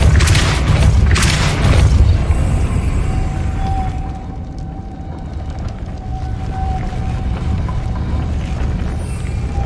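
Depulso spell cast in Hogwarts Legacy, a heavy booming blast with deep rumbling low end that swells at the start, then settles into a sustained whooshing, rumbling tail with a faint tonal whine, loud and close.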